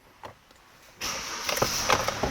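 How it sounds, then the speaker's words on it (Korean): A 2019 Kia The New Carnival with about 141,000 km fires up. A second of near-quiet with a faint click gives way to the engine catching at once and settling into a steady idle hum, with a few light knocks over it. "더뉴 카니발 시동 한번 걸어보면은"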